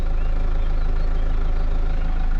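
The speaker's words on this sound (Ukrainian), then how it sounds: "вимикаю ніжненько, двигун." A car engine idles while parked during a driving lesson, giving a steady, low, continuous rumble with no change in pitch and no talk over it.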